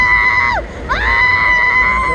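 Riders screaming on the GX-5 Extreme Swing, long shrill screams that drop away briefly then rise again, loud and close over the rush of the ride.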